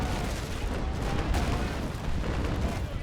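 Ship cannons fire in the Naval Action naval combat game, a dense, continuous rumble of booming broadside shots with no clear gaps, loud and close, without talk.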